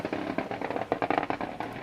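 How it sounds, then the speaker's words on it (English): A Lancia Ypsilon rally car descends a hillside on a rally stage, its exhaust letting off a dense, continuous series of sharp crackles and pops, close and loud, like a string of firecrackers. "And that is the sound of a Lancia Ypsilon"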